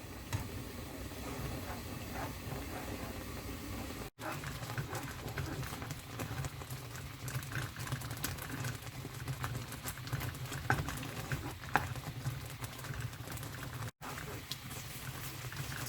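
Thick black sesame porridge made from rice bubbles and plops steadily in a pot, with faint scraping and ticking as it is stirred.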